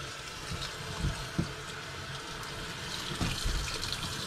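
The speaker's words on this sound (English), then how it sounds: "We're just going to turn the water on here and just rinse this." Tap water runs into a kitchen sink while a cured pork belly is rinsed under it, a steady close splashing wash with a few heavier gushes as the meat shifts in the stream.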